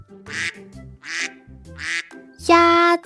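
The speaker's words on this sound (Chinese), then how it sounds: "鸭子" A duck gives three evenly spaced, nasal quacks, then a longer, sustained final quack, all close and clear with quiet gaps in between.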